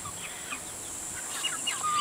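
Soft clucking and chirpy calls from hens and roosters, a few short bursts scattered over a faint steady background hiss.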